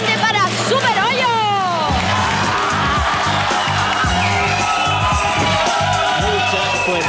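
A studio audience on a Spanish-language TV show cheers and whoops loudly with crowd hubbub for a presenter's introduction, with music and voices running under the noise throughout.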